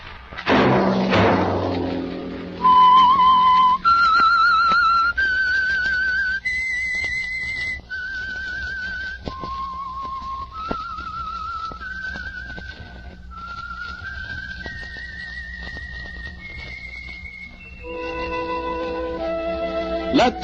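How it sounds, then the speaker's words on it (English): A clear, melodic whistle rises and falls through a series of sustained notes, loud and close, preceded by a brief low rumble. "Let that whistle be your invitation"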